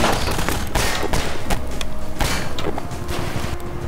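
Gunfire and explosive barrels bursting in the Half-Life 2 video game, with a dense run of shots and heavy thuds over a steady chaotic din, loud and close throughout.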